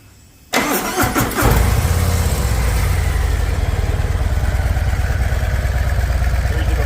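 A motorcycle on its stock exhaust fires up about half a second in, then settles into a steady, loud, close idle with a throbbing low rumble for the rest of the clip, with no talking.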